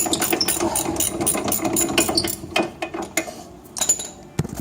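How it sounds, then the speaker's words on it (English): Brake caliper bracket bolts are removed on a Saturn car, producing fast, buzzing mechanical rattles of a power tool in repeated bursts, close up, with brief gaps and a sharp clank near the end. "right now I'm just removing the caliper bracket with the caliper all in one shot here"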